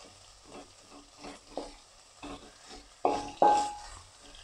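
Sliced onions fry in a pan while being stirred, soft intermittent sizzling and scraping strokes, with two louder spatula knocks against the pan near the end.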